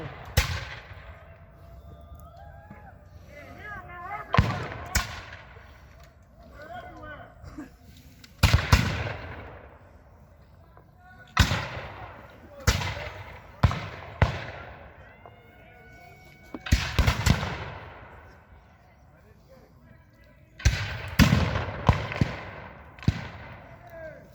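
Repeated sharp gunshot blasts from a battle reenactment at the Dade Battlefield, booming irregularly across the field, some in quick pairs and clusters, with faint voices talking between the reports.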